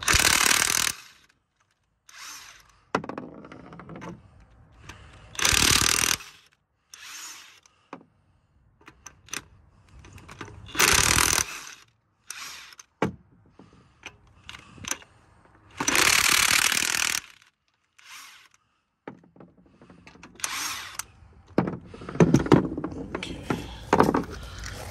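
Lug nuts on a Jeep Patriot wheel being loosened with a power impact tool, in repeated loud bursts of a few seconds each separated by pauses and small clanks of handling.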